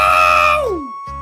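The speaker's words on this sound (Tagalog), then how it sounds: "may nakakabinging mga sigaw ang nagmula sa loob ng banyo" A single loud, piercing human scream comes from inside a bathroom, held briefly and then sliding downward in pitch before cutting off abruptly.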